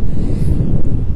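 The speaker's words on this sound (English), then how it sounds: "It's very windy." Strong wind buffets the microphone in front of a city hall in Vienna at Christmastime, producing a loud, continuous low rumble and roar that fills the whole moment.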